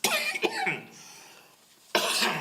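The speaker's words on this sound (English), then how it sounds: "got a cough right now" Several harsh coughs from someone with a cold, close to the mic during a planning commission meeting, a quiet gap, then another loud cough at the end.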